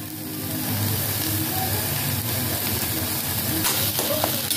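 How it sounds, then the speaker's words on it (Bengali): Taro leaves fry with salt in oil in a kadai, giving a steady, moderately loud sizzle and hiss with faint stirring sounds throughout. "খুব ভালো করে ভাজতে হবে। আর এই কচু পাতাটা যতক্ষণ না কড়াইতে লেগে আসে আর কচু পাতাটা ভাজতে ভাজতে একদম কালো হয়ে যাবে"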